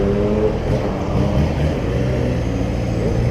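A Kawasaki Z750 motorcycle engine runs loud and steady, a dense low drone with slight rises in pitch, close to the listener for the whole stretch.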